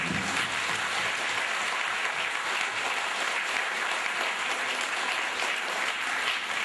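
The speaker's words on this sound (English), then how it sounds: "Give a big clap to him." Sustained audience applause at a spiritual discourse on the Bhagavad Gita, a dense, steady wash of clapping from a large crowd lasting several seconds with no talk over it.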